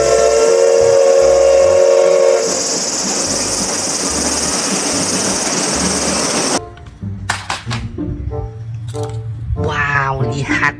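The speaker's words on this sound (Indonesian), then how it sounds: "Kereta Thomas." A toy Thomas the Tank Engine steam train sounds a loud, sustained whistle for about two seconds, followed by steady chuffing hiss, then cut off by clattering toy noises and a voice.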